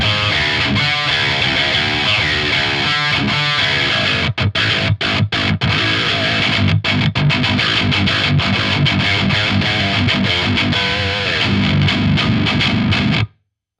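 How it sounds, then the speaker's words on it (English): An electric guitar on a split-coil bridge pickup plays a loud, distorted, slappy tone. Tight chugging riffs are cut by sharp stops, and the sound ends abruptly in silence. "On the bridge pickup, if you split it, you can get some really slappy, kind of distorted tones."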